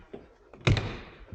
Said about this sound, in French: fermez la porte comme ça.